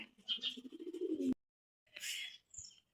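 Pigeons coo softly in a low, throaty burble, followed after a short pause by a couple of brief rustling flutters nearby.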